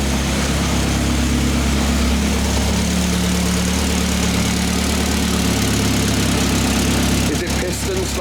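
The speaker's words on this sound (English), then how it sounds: "At idle, the car will mostly map itself." A built Mitsubishi Evo X with a PT 6466 SST turbo idles close by with a steady, loud, rough engine drone. A faint ticking runs through it, and a brief disturbance is heard near the end.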